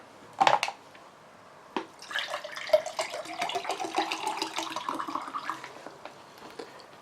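Wastewater runs from a portable reverse osmosis purifier in a steady close stream lasting several seconds, preceded by a couple of sharp knocks and a brief splash.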